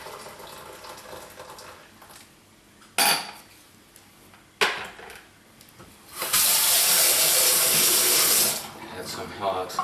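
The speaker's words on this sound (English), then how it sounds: "Add some hot water on the top" Hot water poured into a pan holding a can of beer-kit wort for home brewing: two short splashes, then a loud steady pour lasting a couple of seconds, with light clinks of pans around it.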